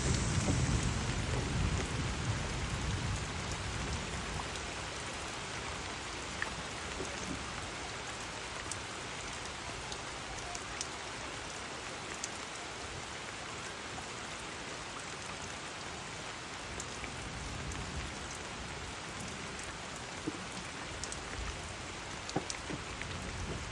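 Heavy rain falling steadily during a traditional funeral ceremony at a tongkonan, a dense continuous hiss of drops with occasional sharper patters, loud and unbroken throughout.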